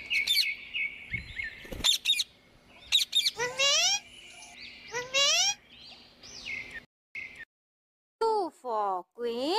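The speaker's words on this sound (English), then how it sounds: "P for parrot." A parrot gives a series of sharp, chirping calls and sliding whistles in short bursts with brief pauses between them, clear and close.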